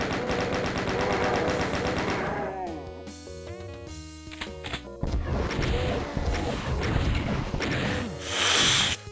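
Rapid automatic gunfire from a chaingunner enemy in a first-person shooter, mixed with game music, crashes and whooshes, fairly loud and busy throughout.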